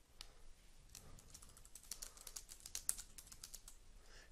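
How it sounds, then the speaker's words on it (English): Quick, irregular keyboard clicks patter steadily, close and soft, with no voices. "begin typing a message along with a subject"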